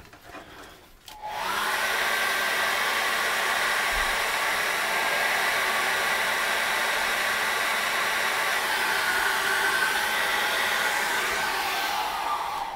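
Hair dryer blowing steadily over a freshly painted acrylic canvas, switching on after a brief quiet moment and then running loud and constant at close range, alone without talk.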